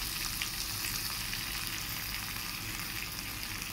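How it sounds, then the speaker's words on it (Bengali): Potato and paneer fry in a spice masala for methi paneer, giving a steady, close, continuous sizzle with faint stirring and no voices. "এই আলু আর পনিরটা দিয়ে দিয়েছি মশলাটার মধ্যে এবং মশলার সাথে কষা হবে 1 মিনিট মতো"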